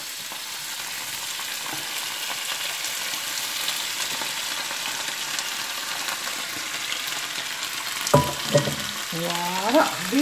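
Green beans sizzle and fry in a pan with cooked onions, a steady crackling hiss throughout, with a few louder clatters and stirring near the end.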